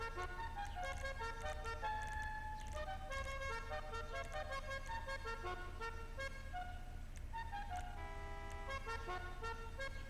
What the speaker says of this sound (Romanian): Claxon.